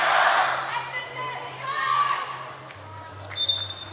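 Loud crowd cheering and shouting in an indoor arena during a FIBA 3x3 Asia Cup basketball game between China and Japan, a roaring swell that dips and rises again with a whistle-like tone near the end.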